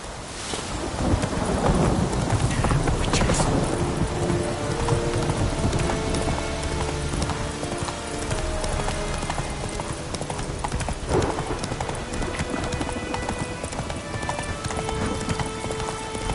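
Galloping hooves of Geralt's horse Roach in The Witcher 3, a fast, rapid clip-clop close up and loud over a rainy thunderstorm backdrop, with rumbles of thunder rolling through.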